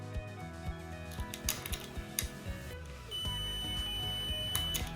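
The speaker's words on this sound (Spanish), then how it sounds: "Al unir los dos bornes, suena un pitido." Electronic continuity tester beeping as its two terminals are joined while checking the coils of a homemade generator, a thin steady tone among clicks and small mechanical handling noises, close and moderately loud.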